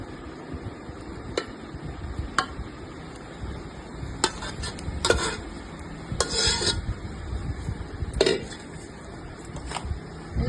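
Mango pickle ingredients are stirred together in a bowl, giving soft, steady mixing noise broken by intermittent sharp scrapes and clicks of a utensil against the bowl.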